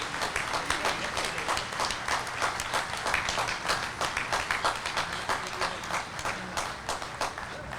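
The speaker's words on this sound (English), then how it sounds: "Let's have a round of applause for these esteemed members." A small crowd applauds band members of a drum corps at a 250th anniversary gathering, steady dense clapping that holds for the whole stretch at moderate volume.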